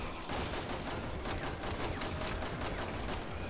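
Rapid, dense gunfire from Resident Evil 6 Mercenaries mode, played solo as Jill. The shots repeat almost without pause as a loud, continuous barrage.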